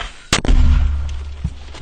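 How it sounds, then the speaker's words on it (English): A single loud, close mortar launch from a hidden dugout near Bakhmut, a sharp thump followed by a low rumbling tail, then a faint secondary thud. "This covered corridor leads to the dugout from where they are able to launch mortars and still remain hidden."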